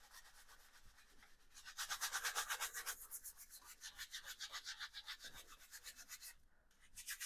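A paintbrush scrubs paint onto canvas for a fall forest painting, making quiet, rhythmic back-and-forth rubbing strokes that speed up and slow, close and soft, with no talking.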